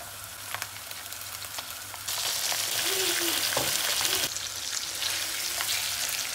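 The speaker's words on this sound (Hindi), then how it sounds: "अब मैं चिकन को वाइट होने तक अच्छे से कुक करूंगी।" One kilogram of chicken frying in hot oil in a karahi, a steady close sizzle that jumps louder as the chicken is stirred and turned, continuing without talk.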